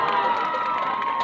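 Children shout and cheer together at a school fair held for a Children's Day celebration, a dense, steady crowd roar of young voices at moderate volume throughout.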